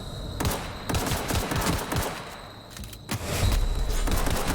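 Rapid video game gunfire crackles in dense bursts, loud and close, with a short lull before the shooting resumes.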